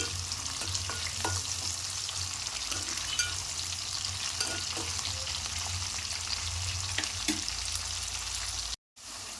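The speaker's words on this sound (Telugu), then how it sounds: "చూడండి, ఆనియన్ ఇలా ఫ్రై అయిపోవాలి." Onions frying in a pan for brinjal curry give a steady, close sizzle throughout, with occasional stirring scrapes, no voices, and a brief cut near the end.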